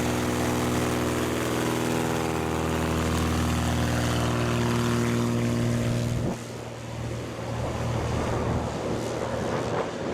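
A highly modified experimental Cessna 170B taking off, its propeller engine droning loud and steady with strong harmonic tones, then shifting and thinning slightly as the plane moves away, with no talk.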